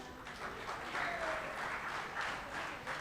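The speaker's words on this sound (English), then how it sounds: "A big round of applause." Audience at a conference and golden jubilee celebration applauds, a soft, steady wash of clapping heard from a distance throughout.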